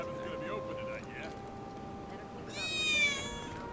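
A cat meows in Final Fantasy 7 Remake, a bright, rising-and-falling meow near the end over a background game soundtrack, with a voice talking earlier.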